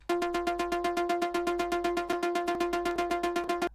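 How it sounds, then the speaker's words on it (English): Hive synth pluck used in an Afro House track, a rapid, evenly repeated stream of short tonal plucks, about eight per second, steady and alone. "And I also added another Pluck that comes from Hive,"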